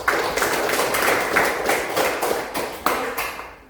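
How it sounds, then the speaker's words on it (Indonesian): A small group, likely a class, claps for Nicholas: scattered, uneven hand claps in a room, several sharp accents standing out over a steady patter, with no talk. "Tepuk tangan untuk Nicholas"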